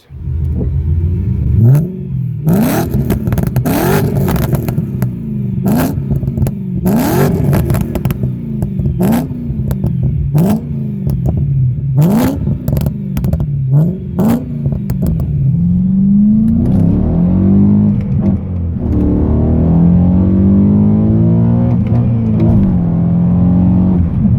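A BMW M3 E92 engine is revved repeatedly with sharp, loud throttle blips that rise and fall in a regular rhythm, followed by a longer sustained climb and a settling idle, all close and with no talking.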